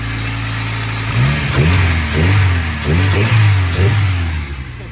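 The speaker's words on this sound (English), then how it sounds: "Give it a couple revs." A car engine idles, then revs up in a series of repeated throttle blips, each rising and falling, close and loud.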